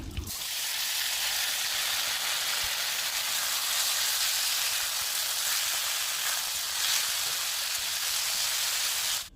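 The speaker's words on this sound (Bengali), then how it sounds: "একটু কালো জিরা ফোড়ন দিয়ে কয়েকটা কাঁচা লঙ্কা কেটে দিয়ে তেলে ভেজে নিয়ে" Black cumin seeds and chopped green chillies frying in hot oil, a loud, steady, close sizzle that holds evenly from start to finish.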